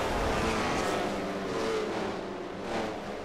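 Race cars roar on the final lap of the South Boston 300 in the NNSCRA Mello Yello Racing Series, a dense, steady engine drone with a slight swell as cars pass, no voices.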